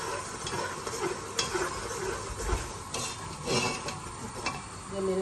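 Mutton keema with spices sizzles and fries in a large pot while a spoon stirs and scrapes steadily, loud and close with a continuous hiss.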